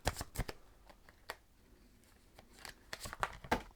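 Tarot cards shuffled by hand in quick bursts, a crisp riffling and slapping that is close and fairly quiet, with sharp card snaps scattered across the stretch and no voice over it.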